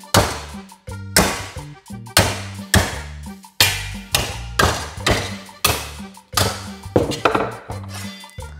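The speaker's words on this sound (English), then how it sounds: "let's see if they're any good with a hammer test" A hammer strikes welded 1mm sheet metal about a dozen times in a steady rhythm, each loud clanging blow ringing briefly before the next.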